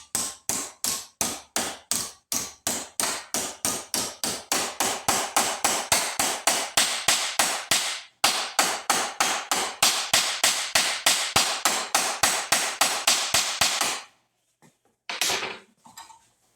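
A hammer strikes sheet metal clamped over a bending form on a workbench again and again. The loud, sharp blows come in a fast, steady rhythm, with a short pause partway through. The hammering stops near the end, followed by a few faint knocks.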